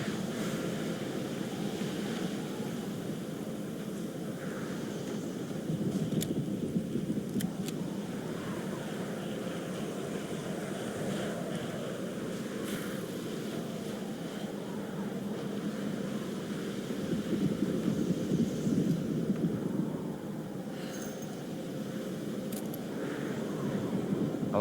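Steady howling wind sweeps through an outdoor scene in the video game Alone in the Dark, a broad continuous rush that swells a little in places and runs alone without any voices.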